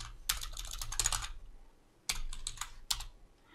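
Typing on a computer keyboard while entering text into a WordPress under-construction page, with quick bursts of close clicking keystrokes, a short pause, then a few more taps.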